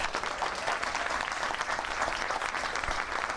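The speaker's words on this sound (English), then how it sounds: "Give her a nice round of applause." Audience applause fills the room at a city grant announcement, a steady dense wash of many hands clapping throughout, loud and continuous with no speech over it.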